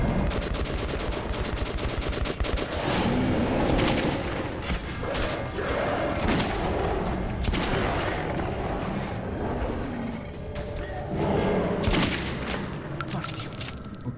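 Dense gunfire and explosions from the first-person shooter Metro 2033 Redux on PS4, loud and continuous with rapid automatic bursts, booming impacts and crashing debris layered throughout.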